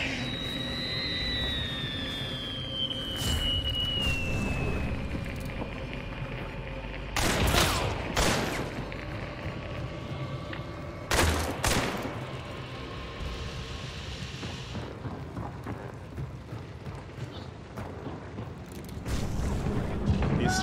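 Gunfire in a video game, with several bursts of loud rapid shots breaking out over a steady din of game noise, the heaviest bursts spaced a few seconds apart.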